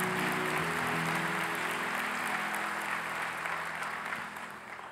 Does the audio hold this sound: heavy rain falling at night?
no